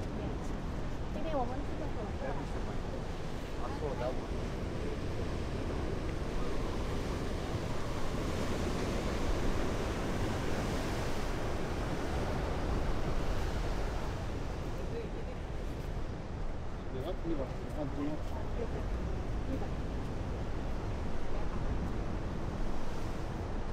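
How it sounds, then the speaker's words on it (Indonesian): Strong ocean waves surge and roar steadily at high tide at Tanah Lot in Bali, with wind noise and distant voices mixed into the constant wash of surf. "Ah, betul kan, high tide punya. Ombak kuat."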